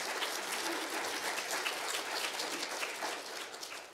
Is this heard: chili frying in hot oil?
no